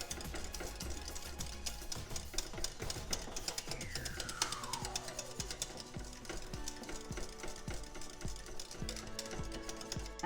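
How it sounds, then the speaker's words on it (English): A whisk clatters briskly against a bowl while beating egg custard for sütlü börek, a dense stream of rapid metallic ticks alongside other kitchen noise and a brief sweeping tone midway. "So just keep whisking for a bit, just for that egg."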